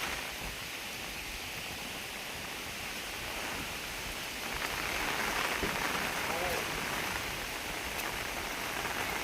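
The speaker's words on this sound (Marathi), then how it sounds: "पाऊस आहे आणि वारा सुद्धा आहे." Heavy monsoon rain pours over a Konkan paddy field during rice planting, a steady, dense hiss of rainfall with wind gusting through it, growing slightly louder midway.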